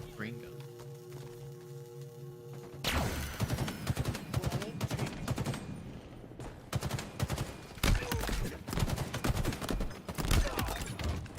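Video game gunfire during a competitive match: after a quiet start, rapid bursts of shots break out and continue in dense volleys, with a commentator talking over the action.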